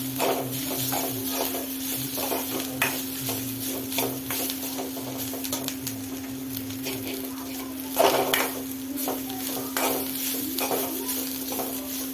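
Coconut sautéing in a pan for kaara chutney, with a steady close sizzle of frying under repeated scraping stirs of a spatula against the metal pan, continuous throughout with no speech.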